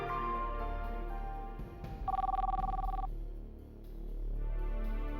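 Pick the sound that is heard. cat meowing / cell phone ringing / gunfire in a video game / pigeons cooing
cell phone ringing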